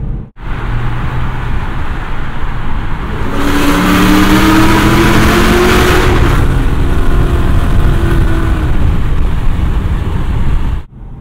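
A Chevy SS (Holden Commodore) fitted with American Racing long tube headers and an X pipe revs loudly and up close, its steady idle swelling into a sustained high-rpm roar before settling back down.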